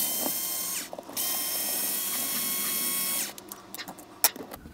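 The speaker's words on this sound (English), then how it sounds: "we simply need to remove the protection plate. Just screws like this" Screws come out of the protection plate on a Traxxas TRX4 RC truck under a small electric screwdriver, a steady close whirring hum that stops briefly, resumes, then gives way to a few sharp clicks and taps.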